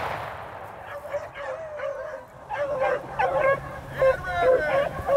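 Several hunting dogs bay and yelp on a rabbit hunt, loud and close, with repeated overlapping barks and yips that rise in intensity toward the end.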